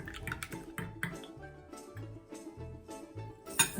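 Gelatin powder being stirred into water in a container, soft irregular sloshing and dripping splashes with small clinks, fairly quiet and close, with no talking.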